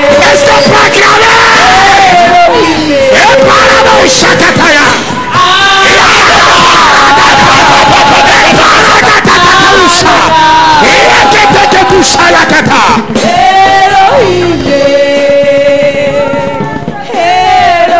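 A church congregation cheers and acclaims loudly, with sustained yells, whoops and shouting voices that stay dense and close throughout, while tonal singing or chanting runs beneath the crowd noise.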